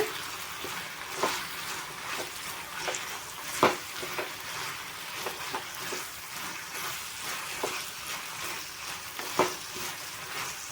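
Coriander leaves sautéing in a pan, a soft continuous sizzle with scattered scraping and tapping from a spatula stirring the wilting greens.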